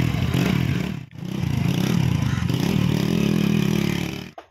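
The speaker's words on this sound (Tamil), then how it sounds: "ஓகே, வண்டி நம்ம ஸ்டார்ட் பண்ணிவிட்டு ஓட்டி பார்க்கலாம் எப்படி இருக்குன்னு சொல்லிட்டு." A 1999 Hero Honda Splendor motorcycle engine runs loud and close with a rough, steady drone and a brief dip, building in tone as it is ridden, with clattering and wind noise over it.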